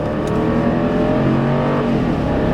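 A BMW X5 4.4i Sport SUV powering out of a curve, its V8 engine note rising steadily and close, a continuous smooth drone with layered harmonics and no talk over it.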